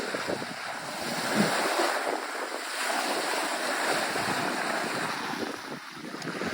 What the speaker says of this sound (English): Listen to the sound of those waves.